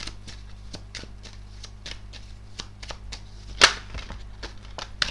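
Tarot cards are shuffled and sorted by hand during a reading, giving a quick run of soft riffling flicks and taps with one sharper slap near the end, close and alone.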